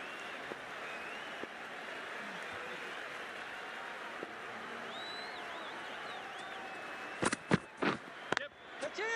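A crowd applauds at a men's Cricket World Cup match between Sri Lanka and England, a broad wash of clapping and cheering underneath commentary, with a few louder bursts near the end.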